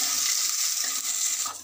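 Chopped onion, garlic and green chilli fry in hot mustard oil in a kadai, giving a steady close hiss and sizzle with faint stirring scrapes, no voices.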